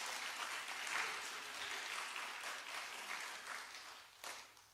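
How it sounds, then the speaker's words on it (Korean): A church congregation applauds an ocarina praise team at a Wednesday worship service, soft and fairly distant clapping that swells slightly and then fades, with a sharper clap or knock near the end. "우리 오카리나 찬양단 우리 또 격려의 박수를 한번 쳐드리겠습니다."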